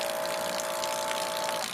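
Running water pours from the tap of a portable camping water dispenser, a steady close splashing flow with a faint pump-like whine that cuts off near the end.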